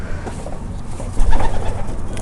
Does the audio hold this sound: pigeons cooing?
yes